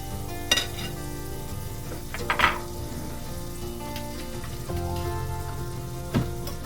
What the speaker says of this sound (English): So I'm just going to add another pat of butter.